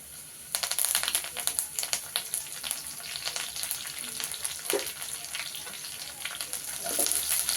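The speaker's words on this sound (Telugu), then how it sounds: "కరేపాకు రెండు రెబ్బలు వేసుకుంటున్నానండి" Curry leaves hitting hot oil for a tempering, crackling and sizzling steadily with dense sharp pops and spits throughout, close and fairly loud, no voices.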